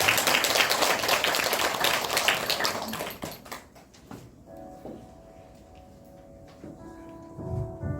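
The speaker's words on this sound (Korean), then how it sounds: "뜨거운 박수로 맞이해 주시기 바랍니다" Warm applause from a concert audience at a poetry-reading and vocal performance, loud dense clapping for about three seconds that then thins out into scattered claps and quiet room sounds.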